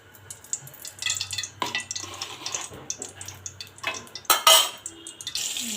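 Kitchen clatter as oil goes into a pan for rui fish curry with ridged gourd: scattered clinks of utensils and pan, light stirring and a soft sizzle at close range.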